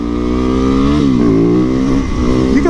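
A supermoto motorcycle revs hard and close while popping a wheelie, its engine note climbing and dipping in loud, continuous surges with no talk over it.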